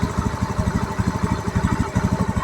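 A Honda Beat FI v2 scooter engine idles close by with a steady, quick, even putter throughout, no voices over it.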